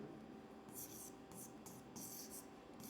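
Pen or pencil writing by hand on paper during a class 10 maths lesson, a few scratchy bursts of strokes close up over a quiet room hum, with no talking.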